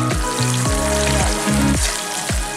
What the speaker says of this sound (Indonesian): Iris bawang lalu goreng bersama cabai rawit dan ranti.